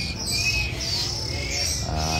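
A caged songbird gives a few clear, high chirping calls over a low background hum, the notes spaced out and moderately close.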